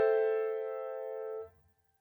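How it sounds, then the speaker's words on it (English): One minor seventh chord played on a piano, held steady and clear for about a second and a half before being released and fading quickly into silence. "Minor seventh chords sound like this."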